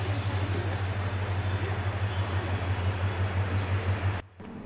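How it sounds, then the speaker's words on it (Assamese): A train arrives at a station on a journey from Tezpur to Lakhimpur in Assam, giving a steady low rumble and drone that cuts off abruptly near the end. "আমাৰ ট্ৰেইন আহিছে দেই"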